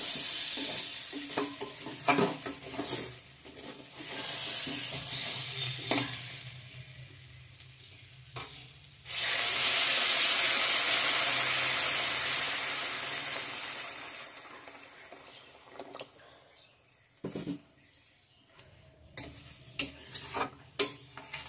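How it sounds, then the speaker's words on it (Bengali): Hot water poured into a pan of potatoes frying in spices, a loud rushing hiss that swells and sizzles, with stirring scrapes before and after; no talking. "ভালোভাবে মশলার সঙ্গে আলুটা কষিয়ে নিয়েছি। এখন জল অ্যাড করব, গরম জল।"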